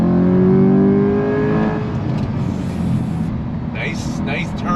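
A 2023 Chevrolet C8 Corvette engine pulls and revs under acceleration, a loud rising drone that is close and steady, with a voice talking over it.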